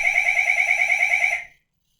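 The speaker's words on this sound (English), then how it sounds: "that's just a fire alarm being tested" A fire alarm under test blares a loud, continuous electronic tone with a rapid pulsing flutter for about a second and a half, then cuts off abruptly into silence.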